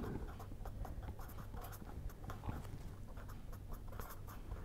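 An equation is written by hand with quick, repeated scratchy strokes at a fairly close distance, and the soft pen or chalk ticks follow an irregular rhythm.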